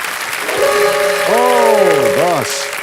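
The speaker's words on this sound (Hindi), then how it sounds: "एक बार फिर जोरदार तालियां बज जाएं इनके लिए" A studio audience on the KBC game show breaks into sustained applause that runs for about three seconds, mixed with swooping electronic musical tones.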